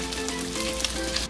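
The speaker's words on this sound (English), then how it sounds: "Continue frying until everything will be done." Beef stir fry with onions and bell pepper fries in a pan, giving a loud, steady, close sizzle with faint crackles and no talking.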